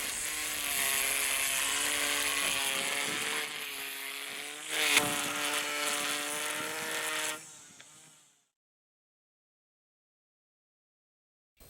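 A Ryobi One+ battery-powered string trimmer used as an edger runs at a steady whine with clear motor harmonics for about eight seconds, then spins down and falls silent.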